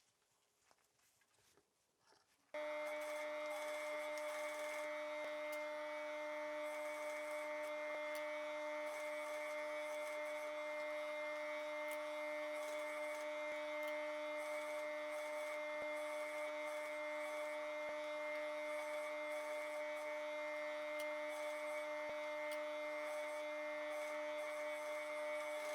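A sewing machine stitches around corset bra cup fabric at a 3/8-inch seam allowance, starting after a quiet moment and then humming continuously and evenly at close range.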